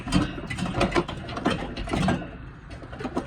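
A broken walk-in freezer fan motor, its body cracked and mounting bolts snapped, rattles and clatters loose in a rapid, uneven mechanical knocking, close and loud, with no talking.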